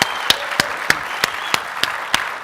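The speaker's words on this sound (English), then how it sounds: "can you guys clap really loud and let him know that" An audience at a Build 2014 developer conference session claps in sharp, evenly spaced beats, about three per second, in a short burst.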